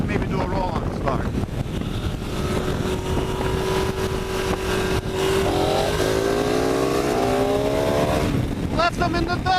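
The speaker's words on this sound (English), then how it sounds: "Let's see if we can maybe do a roll on the start." KTM 1190 Adventure and Ducati 959 Panigale motorcycles accelerate hard side by side in a roll-on race, engine notes climbing steadily in pitch under heavy, constant wind buffeting, loud and close throughout.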